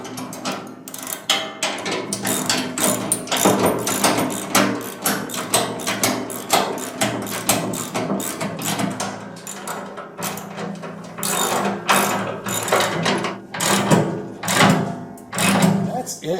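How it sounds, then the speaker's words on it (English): Ratchet and 19mm wrench tightening two bolts on a Johnny Bucket ripper bar, giving steady rapid clicking pawl strokes in repeated bursts, close and fairly loud throughout, with occasional metallic knocks. "tightening them up with your 19mm wrench and ratchet"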